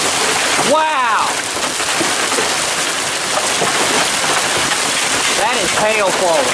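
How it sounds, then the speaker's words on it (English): Hail pours down hard during an intense early-morning hailstorm in Clarksville, Indiana, a loud, dense, continuous clatter of stones striking surfaces close by, with brief bird-like chirps or voices breaking through near the start and end. "That is hail falling."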